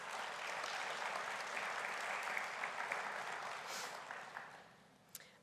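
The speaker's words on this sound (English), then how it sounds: "Please give them a round of applause for their achievements." Audience applause at a high school Seal of Biliteracy ceremony, a sustained crowd clapping in a large hall that holds steady, then tapers off and thins to a few scattered claps.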